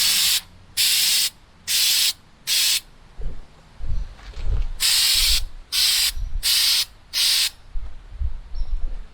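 Aerosol spray paint applying a second coat to car badges being blacked out: repeated short hissing bursts of about a second each, loud and close, in two runs of four with quiet gaps and faint handling noises between.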